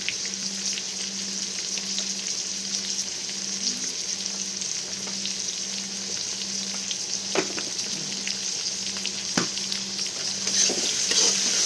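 Broccoli and tomato masala fries in a pan after salt is added, making a continuous even sizzle with a soft repeating low hum and a few sharp clicks near the end.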